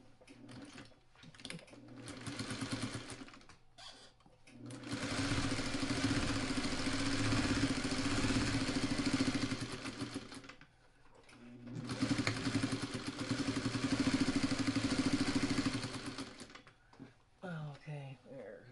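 A sewing machine stitching a quilt carrier, running in long steady whirring bursts of several seconds separated by short pauses, loud and close, with a person speaking briefly between runs.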